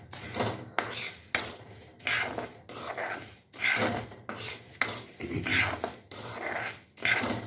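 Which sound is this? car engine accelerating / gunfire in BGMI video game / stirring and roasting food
stirring and roasting food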